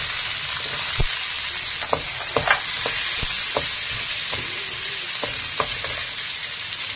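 Onion sizzling in hot oil with urad dal and chana dal for Maggi masala semiya upma, a loud steady fry close up with scattered pops and spoon scrapes, no talking.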